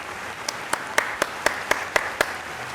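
Steady, evenly spaced hand claps, about eight in a row at a slow regular beat, sound close and clear over a faint background hiss.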